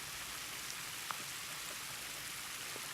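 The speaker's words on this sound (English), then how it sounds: "The rain is a noisy thing, splashing and pattering and rattling the rooftops." Steady rain falling over London, a dense even hiss of drops spattering on surfaces with a few slightly louder individual splashes, constant and moderately loud throughout without any voices.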